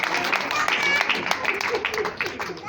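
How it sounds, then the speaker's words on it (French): Wedding guests clap through a civil marriage ceremony, with a steady, dense patter of applause filling the room and some voices mixed in. "on applaudit les papas"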